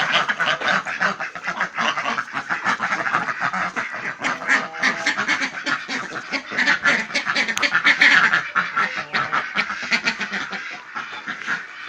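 A flock of ducks quacks continuously and noisily, many overlapping calls close by, with no one speaking.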